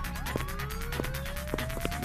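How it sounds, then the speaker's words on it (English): Sirens wail faintly in the distance within a video game city, their rising tones drifting over a low background rumble of traffic, with no talk. "I do hear sirens, but they're some distance away."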